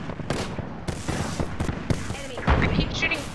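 Rapid video game gunfire crackles in a dense, layered fusillade throughout, with sharp bursts standing out near the end, mixed with muffled voices talking underneath.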